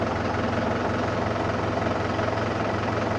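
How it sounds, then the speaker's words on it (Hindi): A Mahindra tractor engine idles steadily just after starting, a continuous low rumble with a constant throb, close and loud throughout with no talking. "अभी ट्रैक्टर स्टार्ट किया ही है हमने।"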